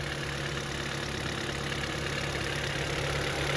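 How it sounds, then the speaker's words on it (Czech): An old Ford car engine idles steadily up close, a continuous low rumble with a slight ticking running through it. "tady můžete vidět motor, trošku nám cvaká, ale to nám úplně nevadí"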